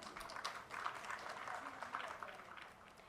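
Faint crowd applause rises at a government campaign launch event in Dehradun, the clapping soft and distant beneath an announcer's amplified voice.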